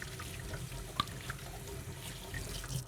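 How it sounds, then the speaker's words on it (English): Hands rinsed under a running kitchen tap while making pita and naan bread, a steady quiet flow of water with a few small splashes and drips, close by and without talk. "I'm kind of rinsing my hands off over here."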